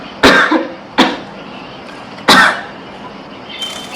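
A person coughs three times in sharp, close, separate bursts, two in quick succession and a third after a pause, with a faint throat sound at the end.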